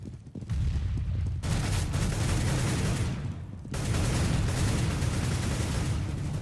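Grenade blasts in the video game Counter-Strike: Global Offensive: loud, dense booming bursts of rumbling noise in two long stretches with a short lull between them.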